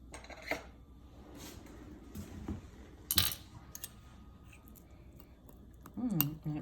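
A small spoon is picked up and handled, giving a few quiet, scattered metallic clinks and taps with soft handling noise between them.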